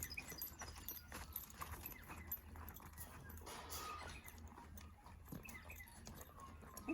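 Hooves of a horse ridden in a bridle clip-clop steadily on the ground, faint and continuous under low background noise.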